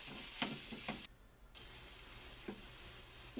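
Onion and garlic sauté in hot cooking oil, giving a steady close sizzle with a few sharp stirring scrapes. The sizzle drops away briefly, then returns.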